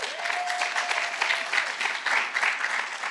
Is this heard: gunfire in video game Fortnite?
no